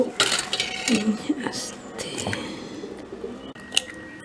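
Two eggs go into a mixing bowl for a cake batter, with a few close, sharp clinks and taps against the bowl in quick succession in a quiet kitchen.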